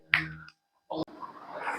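A single sharp finger snap rings out near and dry at home, followed by a short pause and then soft rustling of a bedsheet being handled.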